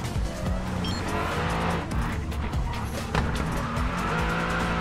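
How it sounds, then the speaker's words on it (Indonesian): A Mercedes race car in the Racing Master mobile racing game roars continuously with engine revving and gear changes, broken by tire squeals and skids, loud and dense throughout. "Oh, ini suara mobilnya enak banget ini."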